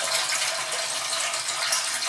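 Water rushes steadily into a tank through a float valve in a home borehole water system, a constant close hiss with no voices.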